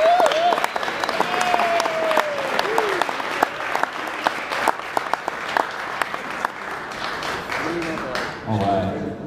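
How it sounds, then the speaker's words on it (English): Wedding guests break into sustained applause for the newly married couple, a dense, lively clapping that carries on for about nine seconds with scattered voices and a brief cheer mixed in. "Gentlemen, give them one more big round of applause."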